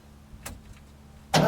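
A 1969 C50 truck with a big block engine, parked for decades, is cranked with the key: faint mechanical noise, then a sudden loud, broadband burst of the engine turning over at the very end.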